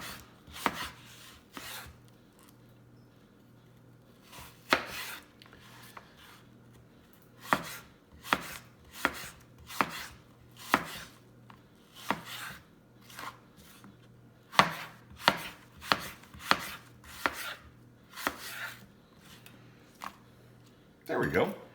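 Knife slicing through apples on a cutting board, a series of sharp, evenly spaced chops with short pauses between bursts, close and fairly loud, with a low steady hum underneath.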